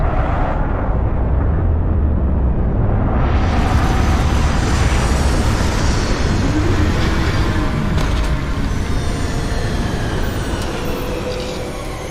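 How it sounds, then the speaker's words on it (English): Spaceship retro rockets firing during a landing in the video game Starfield, a loud, continuous roaring rumble that swells and holds for several seconds. "Landing struts primed. Retros firing."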